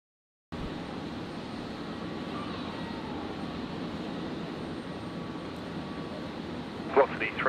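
A Virgin Australia jet lining up on runway 19 left at Brisbane airport at night gives a steady, moderately loud engine drone with a faint whine, with a brief extra sound near the end.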